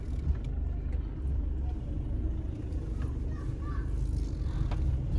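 A car creeps forward slowly in first gear, its low engine hum steady and close with a soft rumbling drone that stays even throughout, with no sharp acceleration.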